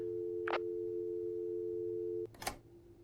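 A steady electronic line tone from a broken payphone in the video game Signal Acquired Radiolight hums for about two seconds, cut by brief noisy bursts, then cuts off abruptly, leaving a quieter tone.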